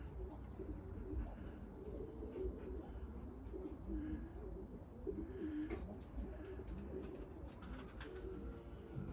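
Crimean pigeons in an aviary coo steadily in low, throaty murmurs that overlap throughout, with background rustle and ambient noise and no speech.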